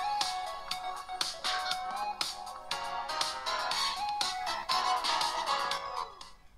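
Music with a bright melody plays at maximum volume through the loudspeaker of a Tecno Spark 20 Pro Plus phone, steady and fairly loud with no talking.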